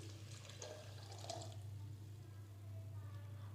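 Water pours softly and steadily into a blender jar holding falsa berries, sugar and black salt, a quiet trickle over a low background hum with no talking.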